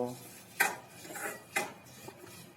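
Roasted black sesame seeds are stirred into a ladoo mixture in a pan, two sharp scraping clinks of the spoon against the metal pan over a soft background rustle, close and fairly quiet.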